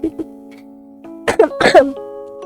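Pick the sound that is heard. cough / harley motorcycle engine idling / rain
cough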